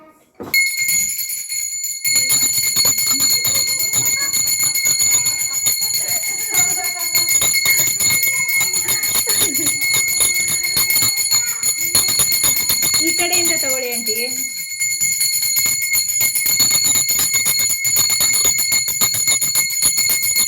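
A puja bell rings in a continuous, bright metallic peal throughout Gowri festival worship at home, while people talk nearby over the ringing.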